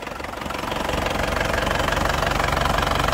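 A black 2011 Grand Touring car's engine idles close by with a steady, rapid ticking pulse that swells slightly in the first second, then settles into an even rhythm.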